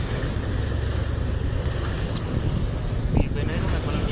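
Boat engine drone on a rough sea with heavy wind buffeting and rushing water throughout, a constant rough roar with a brief knock near the end; voices faintly in the mix.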